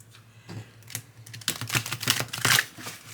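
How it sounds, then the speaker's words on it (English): Large tarot cards are riffle shuffled from the side, giving a quick patter of crisp flicking clicks that builds into a dense, louder burst of rapid card snaps near the end. "if I were to want to riffle shuffle, I would do it this way from the side"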